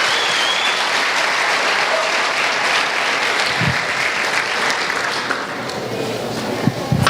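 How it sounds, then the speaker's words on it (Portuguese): A church congregation applauds during a worship service, a loud, dense, sustained wash of clapping that fills the whole stretch without letting up. "Aplauda o Senhor Jesus,"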